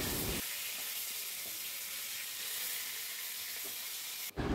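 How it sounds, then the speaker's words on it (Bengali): Fish fries in a pan with a loud, continuous sizzle and spatter, alone in a kitchen, with a brief dip just before the end. "এদিকে মাছ ভাজা বসিয়ে দিয়েছি।"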